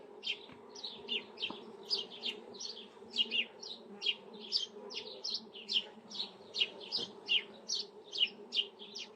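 Honeybees at an open hive give a steady, faint low hum, while loud, regular chirping bursts repeat above it throughout.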